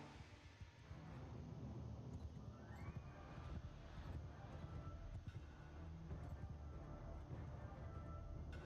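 Horses clatter across a battlefield in Mount & Blade II: Bannerlord as horse archers skirmish in a Vlandia versus Nords battle, a dense, continuous rumble of hooves mixed with steady battle noise.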